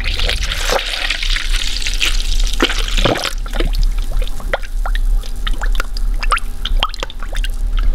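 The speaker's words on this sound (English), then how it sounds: "the air bubbles will come up and they'll be displaced" Air bubbles gurgle up through coolant in the radiator of a Dodge Grand Caravan 3.6 V6, in a steady run of small wet pops and drips under a constant engine hum.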